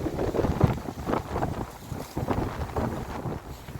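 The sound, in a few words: strong wind blowing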